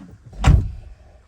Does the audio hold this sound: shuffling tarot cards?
no